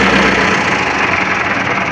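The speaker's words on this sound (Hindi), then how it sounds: "तो फाइनल डीजल पा दिता, ट्रैक्टर हो गए ने स्टार्ट" A diesel tractor engine idles steadily just after starting, a loud, continuous low rumble with a slight knocking texture that runs unbroken throughout, close by with no talking.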